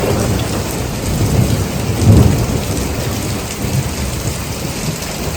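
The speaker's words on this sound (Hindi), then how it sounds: "इतनी तेज़ बारिश हो रही है" Heavy rain pours steadily in a dense hiss on a Pakistani village, with a low rumble of thunder swelling briefly in the middle.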